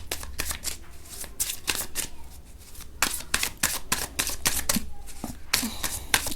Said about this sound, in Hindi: तो कार्ड्स की शफलिंग शुरू हो गई है।